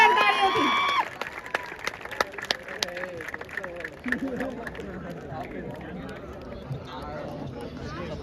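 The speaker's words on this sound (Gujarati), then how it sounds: "જોરદાર તાળીઓથી." An audience at an Abhivyakti Ahmedabad 2025 stage event claps in scattered, uneven bursts. The claps are strongest at the start, then thin out under ongoing talk and crowd murmur.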